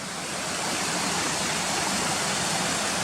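Water rushes through a tunnel beneath railway lines before continuing down into a valley, a dense, steady roar that holds at an even level from start to finish with no voices.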